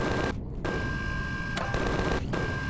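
Gunshots in Empyrion Galactic Survival, a few sharp reports amid steady loud background noise and a constant hum.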